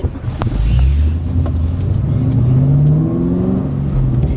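A deep, rumbling LS3 V8 sports car engine idles and revs loudly, with a low throaty growl and wind buffeting in the background.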